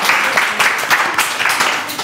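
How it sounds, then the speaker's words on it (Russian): Studio audience applause on a Russian television spelling quiz show, a steady dense patter of many hands clapping close by, continuous and fairly loud for the whole stretch without breaks. "Аплодисменты Розалии."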